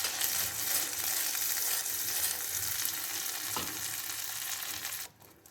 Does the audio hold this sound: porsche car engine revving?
no